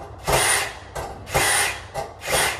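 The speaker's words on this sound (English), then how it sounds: "I'll put this bit in a drill, put on low, and then we undo all the screws" A cordless electric drill set on low drives out the screws of a household consumer unit, in three short whirring bursts with brief pauses between them, close and loud with no talking.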